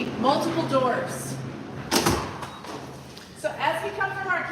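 Doors open and shut inside a kitchen building, with a thud and rattle midway, while people talk throughout.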